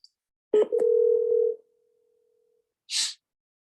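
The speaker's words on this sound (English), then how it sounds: "Calling the number that he texted from before." A telephone dial tone sounds while a number is being called: a click, then a steady hum lasting about a second that fades out, followed later by a brief soft hiss in otherwise quiet surroundings.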